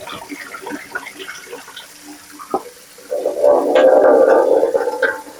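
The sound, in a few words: water being poured off spinach in a pot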